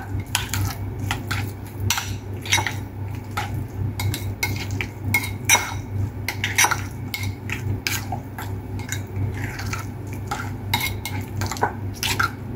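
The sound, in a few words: stirring egg and dill salad with a spoon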